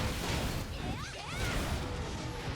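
A blast slash attack in Monster Hunter Stories 2, fought against Lagiacrus, lands as a loud crash with sweeping swooshes and rising-falling electronic tones over about two seconds of dense game noise.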